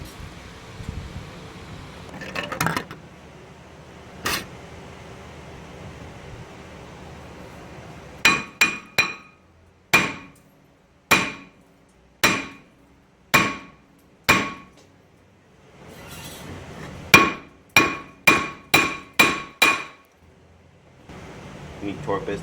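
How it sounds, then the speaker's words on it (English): Hammer blows strike a rusty car brake rotor to break loose the rust inside, sharp metallic clanks coming singly and in quick bursts of four to six, loud and close over a quiet background. "I'm gonna take a hammer and I'm gonna hit this part of the rotor right here"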